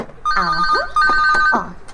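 A cellphone rings in an Ilocano love-story drama with a bright, repeating electronic ringtone melody, fairly loud and close, with no talk over it.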